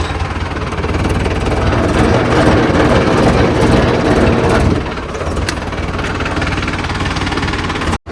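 A heavy tractor engine runs steadily and loudly throughout, a rough rumbling drone that shifts slightly in tone midway before cutting out abruptly at the end.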